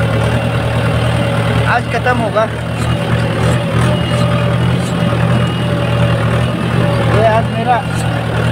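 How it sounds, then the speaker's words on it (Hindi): A tractor engine runs steadily throughout, a loud low drone close by on a farm, while someone talks over it. "देखिए मैं आज ट्रैक्टर मार रहा है ना"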